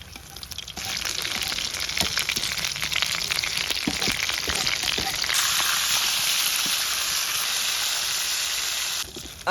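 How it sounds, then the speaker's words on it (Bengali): Fish sizzles and crackles in hot oil in a home kitchen, a loud, dense, steady frying hiss that carries on without a break and swells midway. "তেলটা গরম হয়ে গেছে, এখন মাছটা দিয়ে দিমু।"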